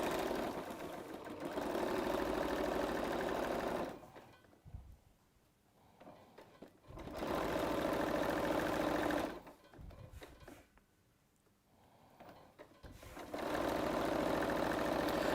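A sewing machine stitches a quilt block seam in two long bursts of fast, even whirring, close and fairly loud, each stopping abruptly with quiet pauses and faint handling noises between runs.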